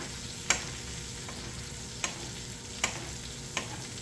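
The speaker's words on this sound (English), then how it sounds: "tilt the pan a little bit, and then just scoop this butter on top of the steak" Venison steak sizzling in a tilted pan as butter is spooned over it, a constant bright frying hiss broken by four distinct clinks of the spoon against the pan, with no talking.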